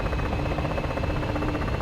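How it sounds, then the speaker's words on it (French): A military helicopter at an air base gives off a steady, fairly faint rotor buzz with a rapid pulsing beat that holds evenly throughout the short stretch. "Il y a pas mal d'hélicoptères."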